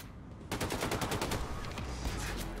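Sustained rapid turret fire in Wolfenstein 2, a steady machine-gun stream of shots that starts abruptly after a quiet half-second and hammers on at close range, with no talking.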